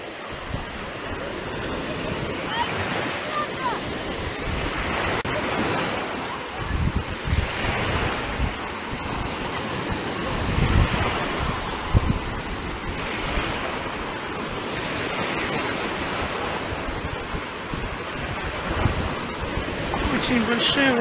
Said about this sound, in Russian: Очень большие волны на Продмаше, что не часто бывает